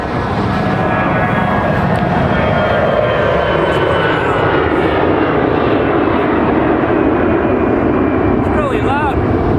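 A low-flying airplane near Los Angeles airport, a broad, loud engine roar that holds for the whole stretch and slowly shifts in pitch as it passes overhead, with a faint voice near the end.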